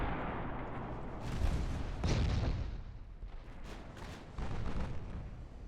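Heavy naval gunfire from a Russian battleship in the video game Ultimate Admiral Dreadnoughts, a series of deep booming salvos and rumbling blasts, loud and close, with no talking over them.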